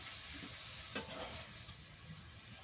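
Garlic paste and cumin paste fry in a pan for a river baim eel dish, giving a steady, soft sizzle with a few stirring scrapes partway through and no talking.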